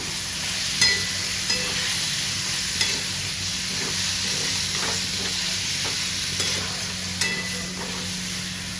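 Washed chicken sizzles steadily in hot oil and spice paste in a pan for home-style Bengali chicken kosha, a continuous close frying hiss broken by a few soft stirring knocks.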